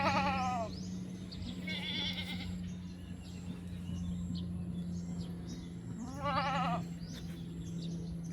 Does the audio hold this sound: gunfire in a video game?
no